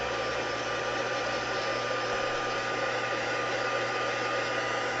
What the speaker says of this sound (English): We're going to heat this dry just really quick so that I can finish.